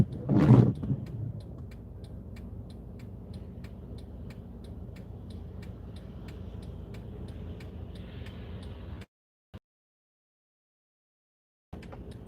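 Steady interior road noise from a moving car: a low, continuous rumble with a louder thump at the start and a brief dropout to silence near the end.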